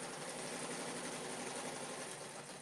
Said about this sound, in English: So it's going and stitching it down in yellow.